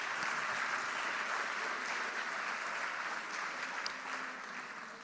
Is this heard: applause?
yes